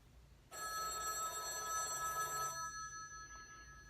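A telephone bell rings steadily and loudly for about two seconds, then stops abruptly, leaving a faint trailing tone in a quiet room.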